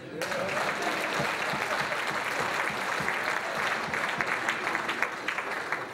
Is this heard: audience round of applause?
yes